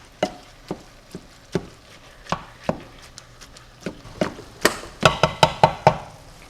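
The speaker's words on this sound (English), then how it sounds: "It helps break apart these large chunks of beef whenever I'm browning" A Pampered Chef chopper breaks up ground beef browning in a pan, making a steady series of sharp, close chopping thuds that quicken and grow louder toward the end, with no talking.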